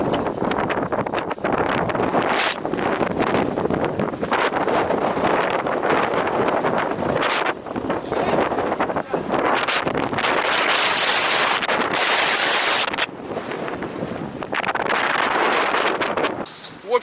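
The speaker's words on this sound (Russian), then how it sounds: "потому что дует ветер." Strong wind blows at a lake during a spring float-fishing outing, loud continuous gusting roar and microphone buffeting that swells and dips, with voices faintly under it.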